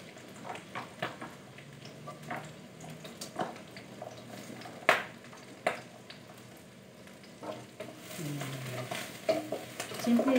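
Vegetables with garlic and carrots stir-fried in a pan, a quiet sizzle broken by sharp clacks and scrapes of a utensil against the pan at irregular intervals, growing busier toward the end.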